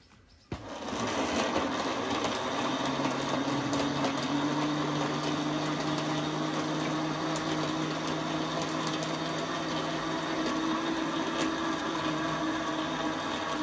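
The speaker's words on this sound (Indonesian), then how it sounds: "Kita blender sampai halus." A kitchen blender runs steadily, churning palm sugar and coconut water for homemade chicken feed, a constant loud whirring hum that starts abruptly and continues without pause.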